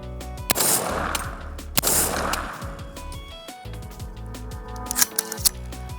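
Two sharp rifle shots of .450 Bushmaster rounds fired through a Warlock multi-caliber AR-style upper, each a loud blast with ringing decay, followed by metallic clicks and handling noises.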